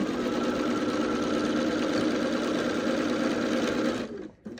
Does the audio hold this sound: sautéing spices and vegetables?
no